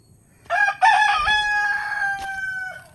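Chickens on a farm: a rooster crows loudly and clearly in one long, drawn-out call, with faint clucking and rustling around it and no one speaking.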